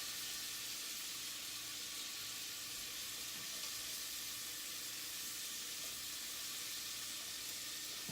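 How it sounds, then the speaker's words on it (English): Onions and garlic sizzle in a hot pan for matzo ball soup, a steady, close frying hiss with a bright crackle that holds evenly throughout. "So I'm gonna take my onions and garlic first and get them going."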